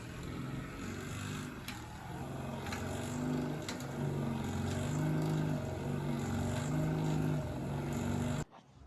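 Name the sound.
electric motor of powered spare tire carrier on Ford F100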